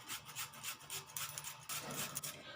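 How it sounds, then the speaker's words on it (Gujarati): Carrots are grated by hand for a paper dosa recipe, with rhythmic rasping strokes repeated in quick succession, close and fairly loud, with no talking. "તો ગાજરને આપણે છીણી લઈશું."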